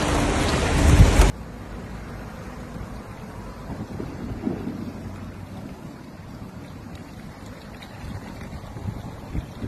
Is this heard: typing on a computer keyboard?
no